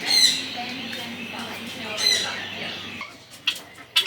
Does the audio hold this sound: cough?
no